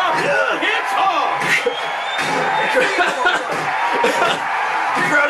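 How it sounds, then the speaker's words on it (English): Arena crowd noise from Hulk Hogan's Main Event wrestling video game, a loud, steady wash of cheering and whooping with thuds of slams, continuous over the whole stretch with commentary-like voices mixed in. "The crowd is loving this, brother."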